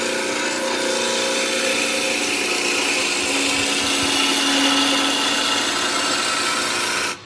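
A skew chisel takes a finishing cut on wood spinning on a lathe, giving a steady, close, loud rushing scrape that holds evenly for about seven seconds before stopping abruptly.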